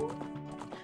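Horse hooves clip-clopping in Zelda: Ocarina of Time, a quick run of four or five sharp, close hoof clops in steady rhythm over a brief moment.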